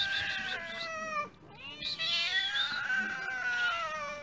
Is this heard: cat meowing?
yes